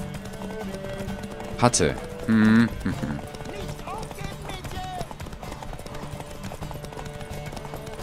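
Horse hooves clip-clop in The Witcher 3, a galloping rhythm running under game sounds, brief tonal effects and someone talking in German over the gameplay.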